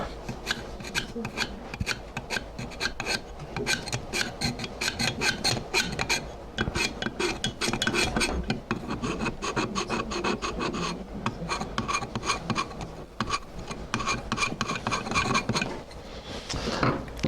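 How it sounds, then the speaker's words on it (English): A chisel scrapes gunk out of an old hand plane body during restoration, a steady close-up run of rasping, rubbing strokes in quick repeated bursts with no talking. "So, I'm just going to scrape some of this out of there."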